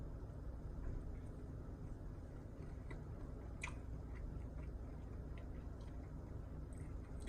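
Quiet, close chewing of eggrolls and salad with soft bites and a few crisp crunches over low steady background hiss, no talking.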